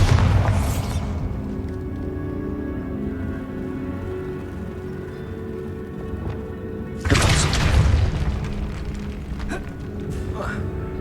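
A Bombarda blasting spell goes off in Hogwarts Legacy with a heavy, booming blast that swells and rumbles for a couple of seconds, preceded by a sharper burst and set against a continuous low ambient roar.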